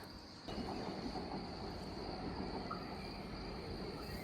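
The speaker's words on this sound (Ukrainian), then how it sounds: "Чуєте? вже їде. Це наша електричка." Commuter electric train approaching a station in Italy, a low steady rumble that rises suddenly after half a second and holds, with a faint high whine and insects chirping in the background.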